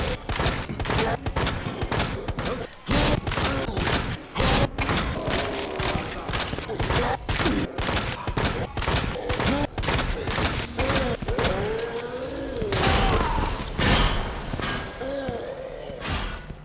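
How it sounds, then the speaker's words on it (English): Rapid gunfire from Resident Evil 2, with shotgun blasts, pistol shots and grenade explosions, loud and dense in a nearly continuous barrage lasting throughout. "that was 20 shotgun rounds, a knife, 2 grenades, and some pistol shots"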